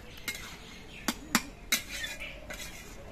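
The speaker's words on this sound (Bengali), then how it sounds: "লাউটাকে আর একবার নেড়ে চেড়ে দিচ্ছি" A metal spoon clinks sharply against a cooking pot a few times while stirring soft, well-cooked bottle gourd for a Bengali shukto, with short, separate knocks over a quiet background.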